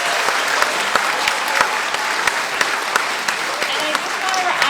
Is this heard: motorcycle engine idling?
no